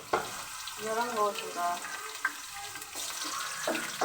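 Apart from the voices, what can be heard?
onion frying in hot ghee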